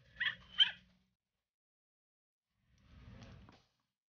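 A Build-a-Bear plush toy service dog plays its recorded dog sound: two quick high yips, a pause of about two seconds, then a lower, muffled whimpering burst, all close and in quiet surroundings.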